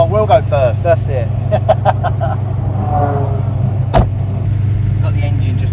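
Ford GT40 race car engine idling steadily and close in the paddock at the Goodwood Revival, a constant low rumble running throughout beneath people talking in the car, with a sharp knock partway through.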